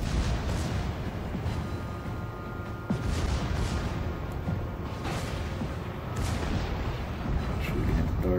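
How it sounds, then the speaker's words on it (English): In World of Warships, the German battleship Gneisenau's heavy guns fire in deep booms over a constant rumbling battle din, loud and continuous, with distant blasts rolling through the noise. "Shooting at the target"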